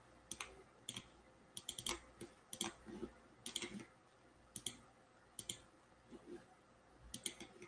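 A computer mouse clicks in quick, sharp bursts of single and double clicks, close and crisp against a quiet room.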